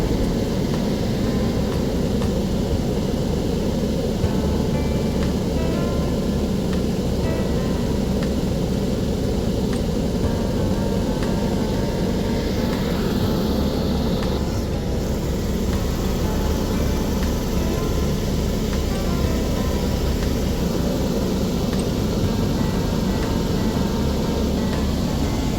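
Steady, loud helicopter cabin drone with a low rotor throb runs unbroken throughout, on a flight from Neelgrath to Panchtarni on the Amarnath Yatra route; no one speaks.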